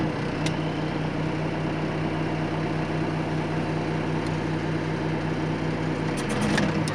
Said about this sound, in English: we're going to take you for a little ride on the sweeper